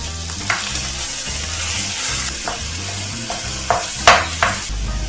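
Ground meat seasoned with salt and pepper sizzles loudly in a pan, a steady close frying hiss broken by a few sharp stirring scrapes, no voices.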